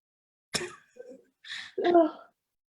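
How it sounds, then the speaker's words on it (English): A single person sneezes close by, a sharp burst followed by short breathy bursts and a final sneeze-like exhalation, with quiet gaps between. "while I sneeze"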